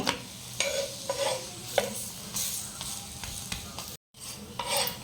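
Aloo paratha frying in ghee on a pan, a steady close sizzle broken by repeated scraping and flipping strokes of a spatula, no talking.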